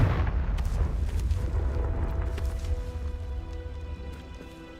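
A Confringo blasting spell goes off in Hogwarts Legacy, a loud rumbling explosion with sharp bursts that rolls on as a long, slowly fading boom.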